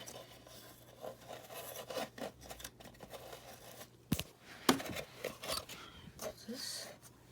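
Eureka Victory vacuum hoses being trimmed, heard close as soft scraping and rasping cuts with a few sharper snips and clicks, quiet and irregular, with no talking.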